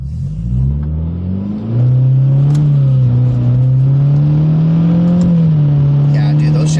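Subaru WRX GT accelerating hard from inside the cabin, the engine note climbing, dropping at a quick paddle-shift gear change, then climbing again, loud and steady throughout.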